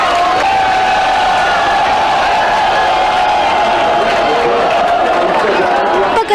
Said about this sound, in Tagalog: Sa pagkatapos ng bawat round, tila umaabot sa Dallas ang lakas ng palakpak at hiyawan.